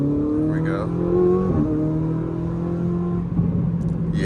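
A Ferrari engine pulls hard under acceleration, a steady rising drone heard from inside the cabin with a gear change partway through; a voice briefly talks over the engine near the start.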